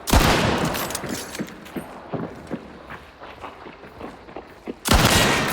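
Gunfire in a hunting video game: a loud burst of shots opens and closes the sequence, with a scattered run of sharper, fainter reports in between.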